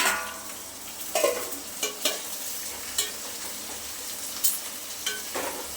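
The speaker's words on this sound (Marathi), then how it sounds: "टोमॅटो हिरवी मिरची छान परतून घ्यायची आपल्याला" Tomatoes and green chillies sautéing with onions in a pan for soya pulao, with a constant close sizzle and regular spatula scrapes and knocks, with no speech.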